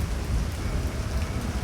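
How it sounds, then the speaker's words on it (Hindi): Steady heavy rain pours down without a break, a dense, loud hiss filling the whole stretch, with no voices. "लेकिन फिर मनहूस बारिश शुरू हो गई।"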